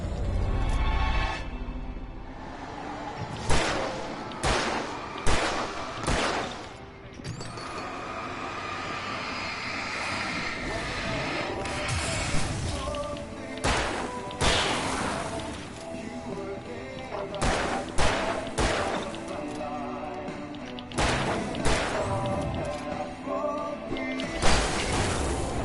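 Gunfire in the video game Alan Wake Remastered: sharp, loud bursts fired repeatedly, some in quick clusters, over a constant roaring game background.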